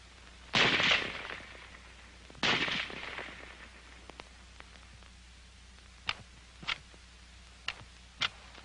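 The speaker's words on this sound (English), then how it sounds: "The rifle will fire each time the trigger is pressed until the magazine is empty." An M1 Garand rifle fires two sharp, loud shots about two seconds apart, each trailing into a short echo, followed by several quieter metallic clicks and ticks from the action, with no speech.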